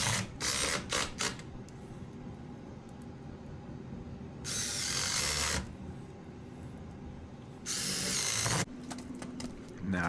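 A power screwdriver drives screws into door hinges in two bursts of whirring, each several seconds long, set against faint background clatter and handling noise.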